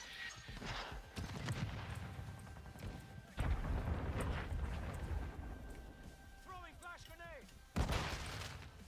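Game combat in Call of Duty: Modern Warfare 2 with sharp explosive bursts and gunfire, including a strong blast midway and another near the end, under intermittent voices and some chirpy electronic sounds.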